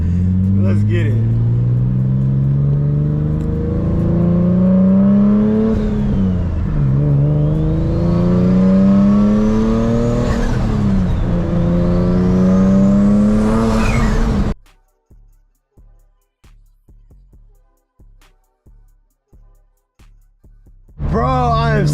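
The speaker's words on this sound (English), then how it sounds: "let's do like a 60 roll now in third gear to see if we are good" An 800HP Infiniti G37 with a drag pack accelerating hard in third gear from about 60, loud engine climbing steadily through the revs with turbo whine, then cutting off abruptly into quiet rhythmic ticking.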